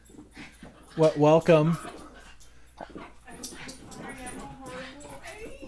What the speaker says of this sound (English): And all the puppies are freaking out. They're excited.